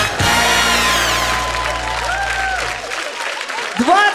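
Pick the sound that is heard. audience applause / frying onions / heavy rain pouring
audience applause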